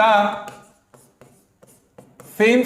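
A pen scratches on paper in short strokes between pauses during a maths lesson, faint rubbing scrapes framed by someone talking at the start and end.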